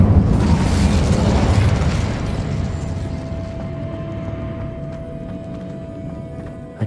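An Incendio fire spell is cast inside a witch's tomb in Hogwarts Legacy, a loud roaring whoosh of flame at the start that slowly fades into a steady low hum, no talk.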